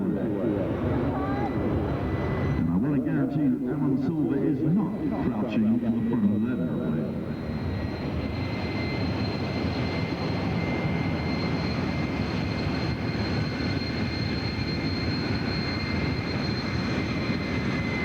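A fixed-wing airplane flies at an air show, making a loud, steady engine roar that holds for the whole stretch, with faint voices near the start.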